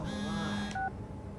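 A phone ringing inside the video game SOMA: a short burst of electronic dialing-type tones, clear and fairly loud, ending abruptly after about a second with a brief higher tone.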